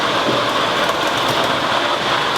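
A fire jockey pump runs during high-rise firefighting training, a loud, dense, steady mechanical roar with water rushing through hose, continuous and close, no talk.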